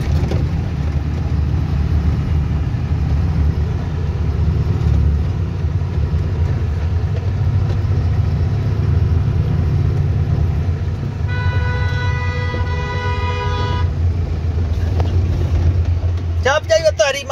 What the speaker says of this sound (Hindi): तो चढ़ाई पे आप देख सकते हैं किस तरीके से गाड़ी चढ़ती है।